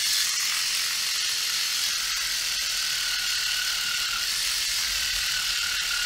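A Dspiae reciprocating sander runs at its slow speed, giving a steady, continuous high-pitched buzzing whir with a faint ratcheting texture, close and alone with no talk.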